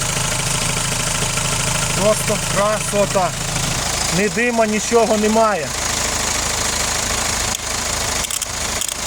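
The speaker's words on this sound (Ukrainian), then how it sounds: "просто ось подивіться, як гарнесенько працює моторчик" A 2013 Hyundai Santa Fe 2.0 diesel SUV engine idles steadily nearby with a low, even rumble while someone speaks over it.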